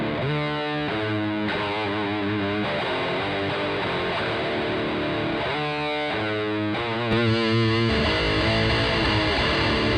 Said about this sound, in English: Nice boomy distortion.